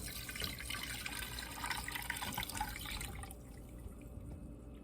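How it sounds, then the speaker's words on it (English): Canned figs being drained and strained into a pot, a steady trickle and splash of liquid running for about three seconds before stopping, fairly quiet. "I'm going to drain them and strain them into this pot."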